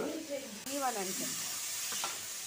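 A tempering of five-spice and a dried red chilli sizzles in hot mustard oil for a cauliflower-stem chachchari, giving a close, steady frying hiss with a few faint tonal sounds drifting over it.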